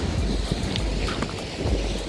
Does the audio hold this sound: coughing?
no